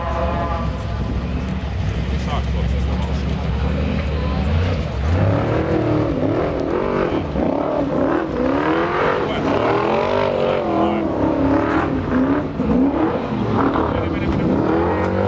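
A formula offroad car at a 2012 Finnish event roars continuously as it drives down a steep drop, the engine revving and straining loudly under ongoing commentary.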